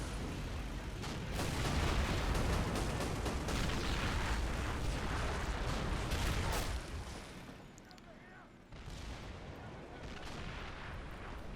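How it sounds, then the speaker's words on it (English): Field guns in a World War battle video game fire in a dense, rumbling barrage of heavy booms and blasts that fill the scene. The barrage thins briefly near the end, then resumes. "Oh, that's going to be taking some field gun fire."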